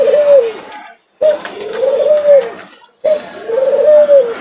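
A pet dove coos in three repeated, rolling phrases, each a soft, low, throaty call close by, separated by short silent gaps.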